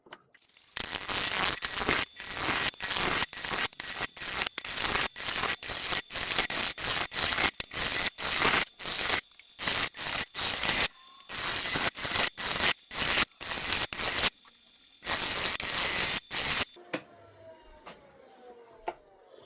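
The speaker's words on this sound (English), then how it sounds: "can you use your tools to cut these in half?" A power tool cuts Russian olive wood in half in a workshop, a long series of sharp, loud rhythmic bursts with brief gaps, ending in quieter scraping.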